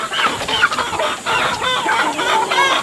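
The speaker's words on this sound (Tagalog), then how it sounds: "Grabe naman itong manok ko na to." A chicken clucks close by in quick repeated bursts, a steady run of short throaty calls with no talking.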